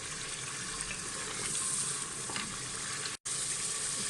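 Mutton curry with yogurt roasts in a pot with a continuous soft sizzle and bubbling hiss, fairly faint, briefly cut by a moment of silence near the end.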